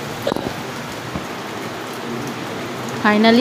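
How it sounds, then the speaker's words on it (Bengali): Rain falls outdoors as a steady, broad hiss of drops near a flowering plant, with a few brief knocks early on and a voice briefly starting up at the end. "ফাইনালি বৃষ্টি হচ্ছে"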